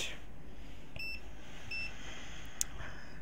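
A digital multimeter set to continuity check emits a few short, high electronic beeps at uneven intervals, faint against a quiet background hiss.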